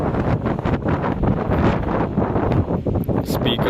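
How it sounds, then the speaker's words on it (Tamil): Strong, gusty wind buffets the microphone at Pamban station, a loud, continuous roaring rush with rapid fluctuating bursts and no clear speech. "ரொம்ப பலமாக காற்று வீசிகிட்டு இருக்கு."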